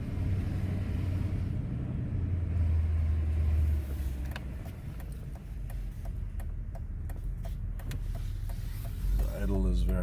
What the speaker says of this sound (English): The idle is very nice in this car.